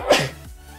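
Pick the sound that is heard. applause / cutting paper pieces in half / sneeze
sneeze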